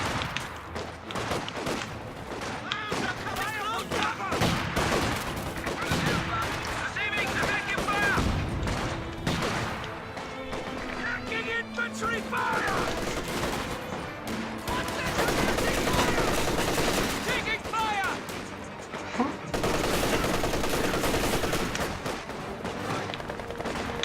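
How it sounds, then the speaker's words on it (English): Machine gun fire in a World War II real-time strategy game, sustained rattling bursts and scattered rifle shots mixed with explosions, dense and continuous battle noise throughout. "MG is on and is gonna suppress the rifleman here."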